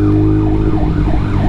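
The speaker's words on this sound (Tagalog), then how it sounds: "kailangan natin lumayo sa ambulansya" A wailing ambulance siren sweeps up and down over loud motorcycle and traffic rumble on a Quezon City road, the rising and falling tone cycling steadily close by.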